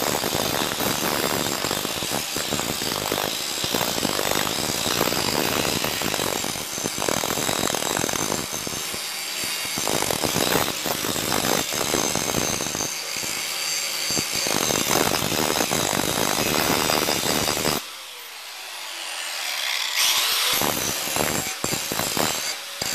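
A belt grinder grinds a knife blade in loud, harsh, continuous rasping passes, the grinding briefly easing at a few points before resuming, with no talking.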